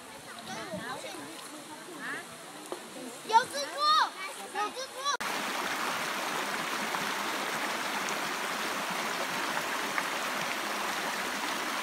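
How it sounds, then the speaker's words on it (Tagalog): Steady rushing of a clear flowing river fills the second half, after an opening stretch of people talking and calling outdoors. "napakaganda ng ilog na to sobrang linaw ng tubig sobrang linis"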